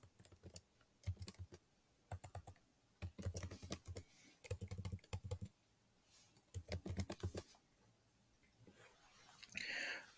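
Keys clatter on a computer keyboard as a name is typed, coming in quick, soft bursts separated by short pauses, close and quiet.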